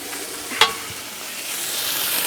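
Tomahawk pork chops searing on a hot griddle, giving a constant close hiss of sizzling fat with one sharp metallic clink of a utensil partway through, no voices.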